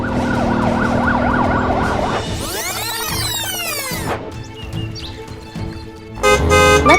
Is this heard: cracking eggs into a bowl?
no